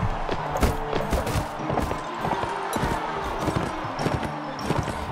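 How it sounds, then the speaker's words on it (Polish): Horse hooves galloping in the video game Mount & Blade: Warband, a rapid clip-clop rhythm that carries steadily throughout amid game noise, fairly loud and close. "Piękne, no zwrot konia."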